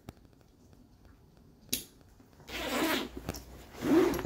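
A zipper on the first section of a budget SOG backpack being pulled open, a short rasping run followed by a louder, longer zipping pass, close and clear with no talking.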